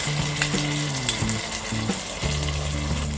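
A teaspoon of ginger garlic paste frying in a pan with cashew nuts for masala pulao, a loud close sizzle with intermittent scraping and clinking of a utensil against the pan.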